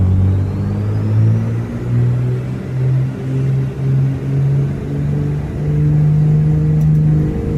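Turbocharged piston aircraft engine powering up for takeoff: a steady, loud droning rumble with a pulsing beat that settles into an even, sustained roar, heard alone without talk.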